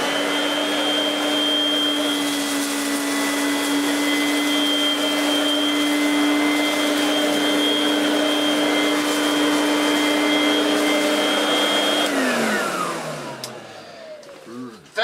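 A refurbished Vorwerk vacuum cleaner with an ET340 powerhead runs in a loud, steady motor whine and roar, then winds down as it is switched off near the end.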